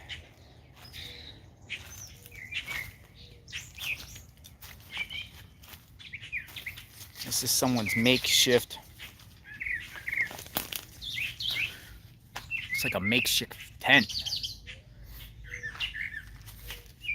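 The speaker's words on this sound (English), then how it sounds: "Hear the birds chirping." Small birds chirp and tweet intermittently in the background, with a flutter of wings, while a person speaks quietly nearby.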